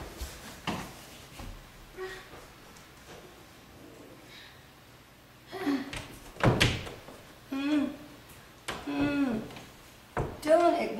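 A stuck door is pushed and thumped while its knob is rattled, giving a few sharp knocks and bangs that are sometimes close and loud, with people talking anxiously in between.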